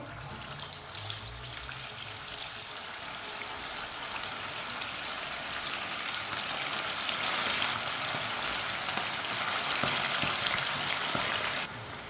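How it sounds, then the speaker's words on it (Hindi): Chicken pieces fry in hot oil with a steady, hissing sizzle that holds evenly for most of the stretch, then drops off abruptly near the end. "चिकन को 3-4 मिनट के लिए फ्राई होने देते हैं।"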